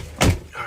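A truck door is held and then pushed shut beside another parked truck, giving one short, solid thud in the middle of a brief moment, followed by a faint trailing rattle.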